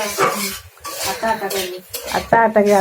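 Potatoes being stirred in a pan with a metal utensil, loud close clanks and scrapes of metal on cookware over a faint sizzle, with a brief voice.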